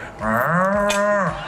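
A man in a hidden-camera comedy sketch imitates a cow with a single long, nasal moo, loud and close, rising and then falling away over about a second.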